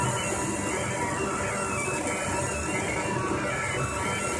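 A Rostock Max delta 3D printer runs a Gyro Cube print at about 30 mm per second, giving a steady, fairly quiet mechanical whir and stepper-motor buzz that holds evenly throughout with no talking.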